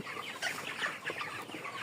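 Faint clucking from a group of chickens, soft overlapping calls rising and falling with no one talking.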